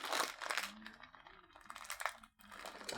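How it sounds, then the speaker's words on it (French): A packet torn open by hand on a table, heard as close, crackly crinkling and ripping bursts with brief pauses between pulls. "Déchirer sur la table comme ça."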